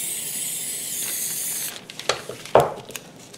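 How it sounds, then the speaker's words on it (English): A steady aerosol hiss of spray glue for under two seconds stops abruptly, followed by a few short rustles and taps close by while assembling a decorative container. "just a little bit of spray glue"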